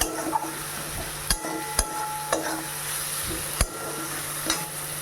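Tomatoes cooking with salt in a pan, a steady sizzle broken by several sharp clinks of a utensil stirring against the pan, close and moderately loud, with no talk.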